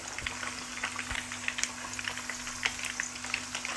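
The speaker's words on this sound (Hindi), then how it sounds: "चिकन को मैं मीडियम फ्लेम पे फ्राई कर रही हूँ।" Chicken pieces fry in a pan over a medium flame for Lahori charga, a soft, steady crackle of spitting oil with scattered pops, fairly quiet and close with no voices.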